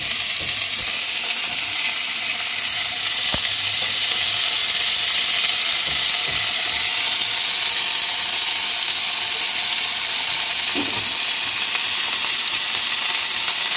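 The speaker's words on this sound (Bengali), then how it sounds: "এবার আমি গাজরটা দিয়ে দেবো আর বিনসটা দিয়ে দেবো।" Carrots and beans fry together with cauliflower in a pan, giving a loud, continuous close-up sizzle and hiss with a couple of faint knocks and stirs, and no voices.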